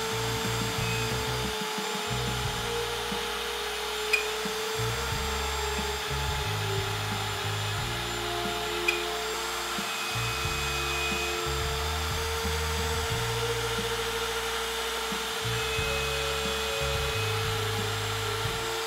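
A router bit cuts a mortise into a wooden headphone-stand base clamped in a homemade tenoning jig, giving a steady, close motor drone with a faint rhythmic churn from the cut and no talking.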